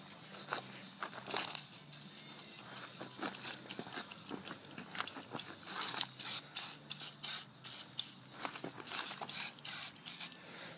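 WD-40 sprayed onto a push mower in repeated short hissing bursts, close and crisp, quickening into a rapid series of spritzes toward the end.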